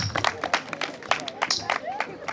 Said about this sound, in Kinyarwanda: Mumuhe amashyi.